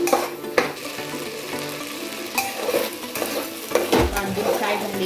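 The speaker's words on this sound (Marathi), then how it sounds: "तांदूळ असे या मसाल्यांमध्ये असे छानपैकी असे फ्राय करून घ्यायचे." Rice frying with spices in oil and ghee, a crackling sizzle broken by several louder scrapes and knocks of a spoon against the pot as it is stirred.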